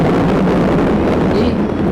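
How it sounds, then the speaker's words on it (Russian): Wind rushing over a sailing boat on an ocean passage, a loud, steady buffeting roar across the whole two seconds with no other clear sounds. "ветер, который свистит в ушах"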